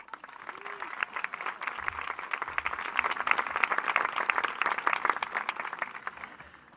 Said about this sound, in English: could we please give her a round of applause for our wonderful MC